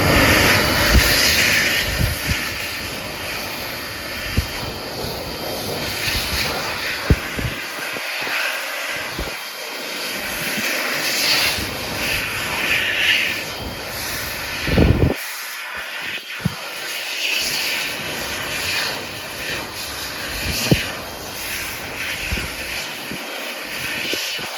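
A Mediclinics Machflow PLUS hand dryer runs on its low setting, giving a continuous airy hiss and whoosh with a few brief bumps and dips as hands move under it.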